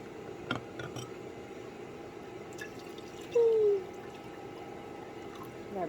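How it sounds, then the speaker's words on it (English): Water is poured into a plant pot filled with bonsai soil mix for African violet and Petrocosmea planting, a faint, brief trickle and drip against a quiet indoor background. "Okay, I just added the water in there."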